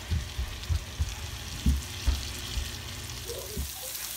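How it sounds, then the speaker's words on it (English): Chicken pieces sprinkled with Cajun seasoning fry in melted butter in a pan, a soft continuous sizzle close by, punctuated by a series of low thumps and bumps as the food is moved around. "Have 2 tablespoons of butter melted, and I'm going to add the chicken"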